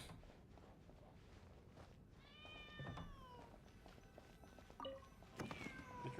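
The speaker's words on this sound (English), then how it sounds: "I can hear the cat's cries a bit clearer now." A cat meows repeatedly from behind a picture frame in Genshin Impact, several drawn-out cries over a steady game ambience with soft footsteps.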